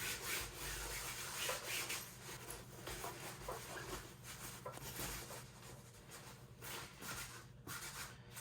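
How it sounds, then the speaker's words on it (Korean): An Arc'teryx Blade 6 backpack being wiped clean with wet wipes, with continuous close rubbing and brushing strokes against the fabric in a steady rhythm and no voices. "닦고 나서 제가 영상 찍어야 되겠다 생각해가지고 다시 한번 닦는 거예요"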